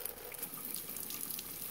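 Fast-running water pours steadily with a broad hiss and faint splashing, continuous and close, with a ping pong ball held in the flow.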